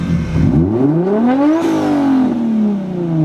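Car engine revs freely with the clutch in and the launch control switch off, climbing smoothly to a peak then falling back in a loud, close rising-and-falling whine with no talking.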